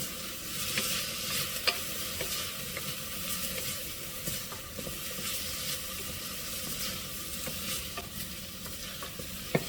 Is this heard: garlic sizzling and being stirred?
yes